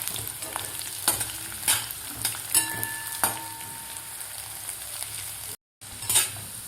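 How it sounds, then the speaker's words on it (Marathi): Chana dal frying in oil as masala for a bitter gourd dish crackles with a steady close sizzle, punctuated by periodic spoon stirs and taps on the pan, with a brief dropout near the end. "तर व्यवस्थित हे आपल्याला फ्राय करून घ्यायचं आहे. म्हणजेच भाजून घ्यायचं आहे तेलामध्ये"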